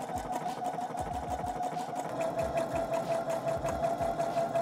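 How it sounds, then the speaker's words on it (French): A sewing machine runs steadily for the whole stretch, topstitching about 5 mm from the edge of a garment, with a constant mid-pitched motor whine and rapid needle chatter at close range, no talk. "je viens faire ma surpiqûre comme ça à peu près 5 mm"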